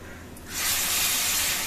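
Blended tomato poured into hot oil for Marathi-style tomato rasam bursts into a loud, steady sizzle after a quiet moment, hissing close and continuous to the end.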